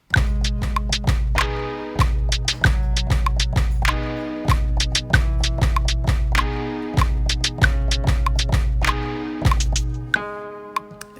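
A loud electronic dance drum beat made in Ableton Live on a Launchkey Mini MK3, with crisp, steady hi-hat ticks over punchy kicks and bright tonal stabs, repeating in a tight rhythm.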